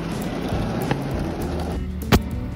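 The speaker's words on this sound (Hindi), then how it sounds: "रास्ते में इतनी तेज ओले गिर रहे थे कि हमें गाड़ी रोकनी पड़ी" Heavy hail drums steadily on a stopped car on a mountain road in Uttarakhand, a dense close rattle of impacts with one sharper knock near the end.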